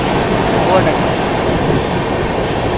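A passenger train rumbles past close by, overtaking the Rajdhani Express, a loud steady roar of wheels and carriages filling the whole stretch.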